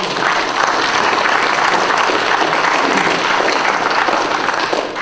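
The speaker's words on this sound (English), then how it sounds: "Yes, let's clap." Church of Christ congregation in Manurewa applauding after a song: a loud, sustained roar of many hands clapping together, steady from start to finish with no break.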